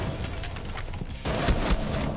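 Gunfire in Rainbow Six Siege, a shotgun among the weapons, with rapid overlapping shots at moderate loudness that swell into a heavier, louder run of blasts in the second half.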